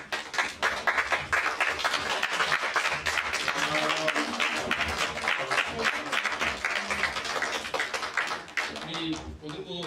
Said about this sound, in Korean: 나올 때 한번 박수 부탁드리겠습니다